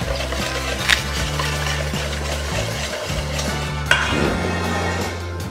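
Eggs being whisked in a bowl for French toast on challah bread, a steady continuous scraping and stirring with a couple of sharper clinks against the bowl, close and fairly loud with no talking.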